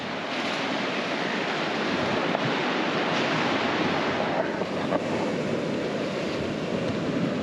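Waves washing onto a soft sand beach make a steady, continuous roar of surf, loud and close, with wind buffeting the microphone throughout and no voices.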